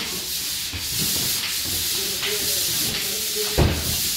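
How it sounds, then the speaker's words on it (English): Steady, gritty rasp of drywall sanding on a ceiling in a 150-year-old house, continuous and close, with a brief louder scrape near the end; a faint voice may be present in the background. "Got the drywallers here finishing up a little bit of sanding before we can roll."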